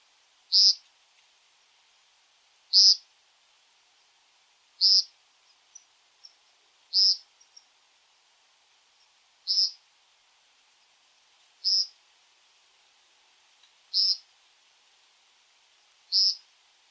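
American woodcock giving loud nasal ping calls on a spring night, eight sharp, evenly spaced single calls about two seconds apart over a quiet background.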